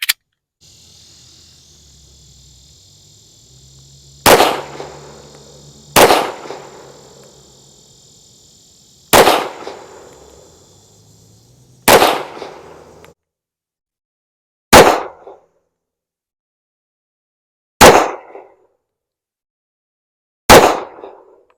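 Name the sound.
1911 pistol gunfire, Rock Island Tac Ultra FS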